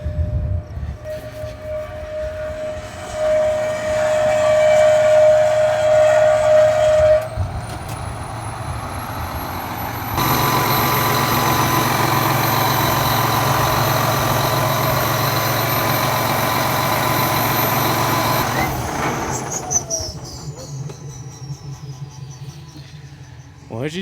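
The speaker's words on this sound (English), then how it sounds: "Why does the tractor sound like that?" Tractor engine running with an odd fault noise: a steady high whine at first, then a loud, sustained roaring hiss that rises in pitch before cutting back to a lower idle.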